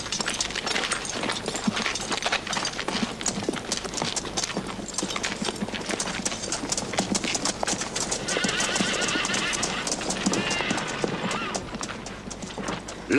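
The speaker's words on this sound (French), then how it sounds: "À cheval!" Horses gallop in a desert setting, a dense, continuous clatter of hooves with neighs cutting through, steady and fairly close throughout.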